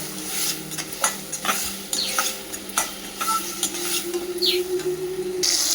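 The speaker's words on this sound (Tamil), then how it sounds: "கொஞ்சம் பொறுமையாக தக்காளியை நல்லா வதக்கிக்கணும்" Tomatoes with rock salt sauté in a pan for egg gravy, a steady sizzle and frying hiss under repeated close scraping stirs and light clinks of a spoon against the pan, no talking.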